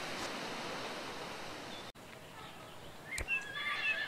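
A horse whinnies in the Ostwind Windstorm video game, a short bright neigh rising out of steady soft background noise near the end, with no talking.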